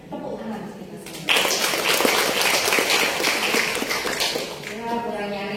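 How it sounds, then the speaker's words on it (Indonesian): Applause from a seated crowd at a formal event in Pontianak bursts out after a brief spoken line and continues as brisk, dense clapping for several seconds, then starts to thin as a voice returns at the end. "Tepuk tangan untuk kita semua."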